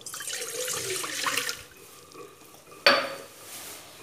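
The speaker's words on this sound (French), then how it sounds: "je vais commencer par mélanger l'eau tiède" Warm water pours and is mixed in a bowl for brioche dough, a steady splashing stream fading out, then a sharp clink of a utensil against the bowl followed by softer stirring.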